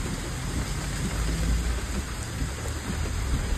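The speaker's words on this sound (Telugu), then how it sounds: "ఫుల్ వర్షం వస్తుంది. వర్షం చూడండి చాలా ఎక్కువగా కురుస్తుంది." Heavy rain pours in a forest during a road trip, a dense, loud, continuous roar of drops with a low rumbling undertone, heard without talk.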